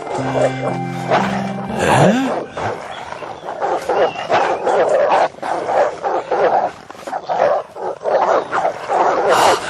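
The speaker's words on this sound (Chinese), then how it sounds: "李老，您看这些狗，昨天没有啊，哪儿来的这是？" Several dogs bark, yip and whimper almost continuously in an animated scene, loud and close, with a brief tonal sound near the start and the barking carrying on throughout.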